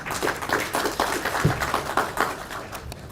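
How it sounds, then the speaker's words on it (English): Scattered clapping rises from a convention audience of the Rural Private Hospitals Association of Kenya, a thin, uneven patter of individual hands rather than a full ovation, lasting a few seconds. "Let's give a better round of applause"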